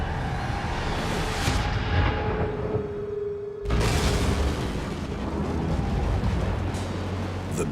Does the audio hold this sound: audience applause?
no